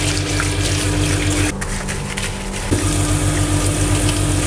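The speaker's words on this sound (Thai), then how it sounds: "สามารถล้างด้วยน้ำสบู่ได้เลยนะครับ" Running water rinses a part of an EZhome cordless wet and dry floor vacuum in soapy water, a steady loud gush with a brief dip in the middle.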